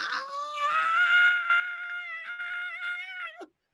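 A man's screaming sound effect gives one long, high, wailing cry lasting about three and a half seconds, wavering slightly before it cuts off abruptly, alone without talk.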